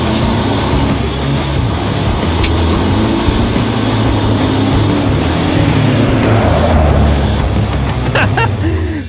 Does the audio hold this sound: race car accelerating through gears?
yes